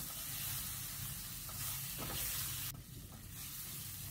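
Lemongrass, galangal and bay leaves stirred into spice paste frying in oil give a steady, close sizzle with a few soft scraping stirs, with no voices.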